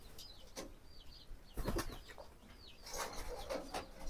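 A female pigeon bathing flaps its wings in a few quick, soft bursts, faint and near, with other birds calling lightly in the background.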